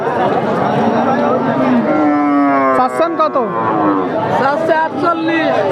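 A six-tooth cow lows at a busy rural cattle market, giving one long, loud moo near the middle of the clip while people chatter and talk close by.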